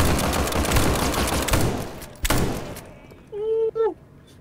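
A dense fusillade of gunfire in the SCP Pandemic video game, loud rapid shots over about two seconds, then a final sharp burst and a fading tail, with a brief voice near the end.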